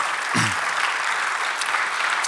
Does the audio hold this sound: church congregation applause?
yes